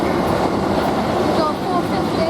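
A Class 455 electric multiple unit passes through Queenstown Road station on the South Western Main Line: a close, loud and steady rushing rumble of wheels and carriages that fills the whole stretch without a break.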